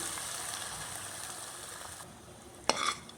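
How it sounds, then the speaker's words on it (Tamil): Tamarind water poured into a pan of sizzling spices for vatha kuzhambu, a soft steady frying hiss that drops off near the end, then a brief splash and bubbling as liquid hits the pan. "அடுத்தது கரைச்சி வச்சுருக்கிற புளியை நல்லா இதில் தெளிவாக ஊற்றிடலாம்"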